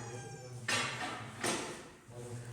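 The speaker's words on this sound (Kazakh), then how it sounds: "Қап-қара мысық екен." A black cat meows twice, each call bright and drawn out, with a steady low hum in the background and a quieter third sound near the end.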